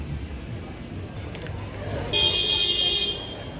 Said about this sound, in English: people honking like they do in India